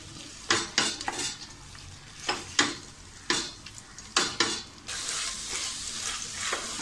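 Masoor lentils sautéed in a pan with a steady sizzle, broken by several scraping stirs of a spoon, then a continuous louder frying hiss toward the end.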